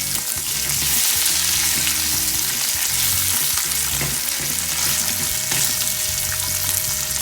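Bacon sizzles and crackles loudly in a hot pan, a constant fizzing hiss with scattered pops and occasional scraping stirs.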